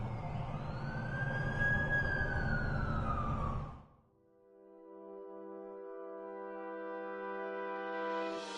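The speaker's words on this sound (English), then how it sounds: "That's the ambulance I called." An ambulance siren wails loudly for about four seconds, its pitch sweeping in long rising and falling arcs, then cuts off abruptly, leaving a faint sustained tonal hum that slowly swells again.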